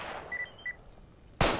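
Gunshots in the shooter S.T.A.L.K.E.R. Call of Chernobyl: after a faint opening report and a few short electronic tones, one sharp, loud gunshot cracks close by near the end, with no talk over it.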